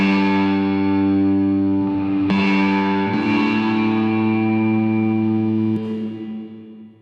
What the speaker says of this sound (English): you have a guitar recorded with spring reverb